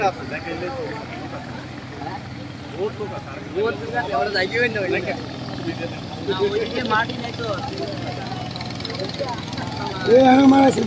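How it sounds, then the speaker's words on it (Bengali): A rescue trawler's engine drones on a river, a steady motor hum running through the whole stretch beneath ongoing talk, swelling slightly louder at the end. "আমরা দেখতে পাচ্ছি আসলে একটি উদ্ধারকারী ট্রলার এই নদীর বাঁধের অংশ দিয়ে ভিতরে প্রবেশ করছে"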